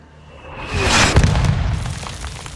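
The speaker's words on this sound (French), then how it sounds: "Ils envoient des coups de mortier." Mortar explosion in the video game Call of Duty Modern Warfare 2, during a sniper mission in Spain: one heavy boom swells to a loud peak, then breaks into a crackling, rumbling tail that slowly dies away.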